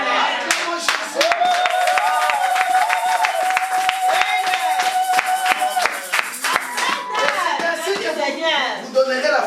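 A church congregation claps in a fast, steady rhythm and cheers to acclaim Jesus, with loud singing and shouting voices over the clapping throughout.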